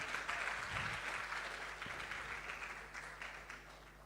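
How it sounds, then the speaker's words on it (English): An audience at a Girls in ICT event applauds with steady, moderately loud clapping that holds for several seconds and tapers slightly toward the end. "Clap for them"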